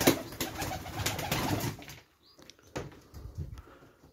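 Birmingham Roller stock pigeons in a loft coo softly and close by, a low murmur that fades and comes back in short bursts with quiet rustling.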